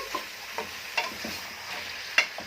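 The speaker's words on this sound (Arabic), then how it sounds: "ونقلب كده بقى ايه عشان تتشرب من الخضروات الجميله دي لحد ما ايه لونها يتغير شويه" Vegetables being stirred in a pan while preparing a tray of oven-baked trotters: a soft background sizzle broken by several scraping clicks of the spoon, the loudest near the end.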